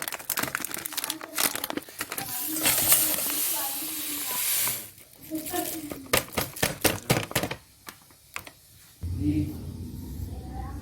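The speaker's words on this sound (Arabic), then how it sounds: "هنفتح بقى اهو كيس البسبوسه" A plastic bag of basbousa mix crinkles and rustles up close, with a burst of tearing and crumpling followed by sharper scattered crackles; a voice speaks at the end.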